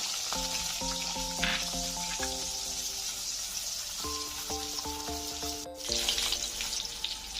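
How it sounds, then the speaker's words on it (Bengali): Capsicum frying in oil for a vegetarian dalia khichdi makes a steady, close sizzle that runs the whole time beneath gentle background music tones. "ওই তেলেই আমি ক্যাপসিকাম দিয়ে দিচ্ছি এটাও ভেজে নেবো"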